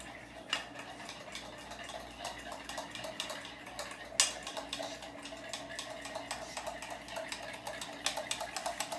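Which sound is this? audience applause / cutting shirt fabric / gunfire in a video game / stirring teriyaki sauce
stirring teriyaki sauce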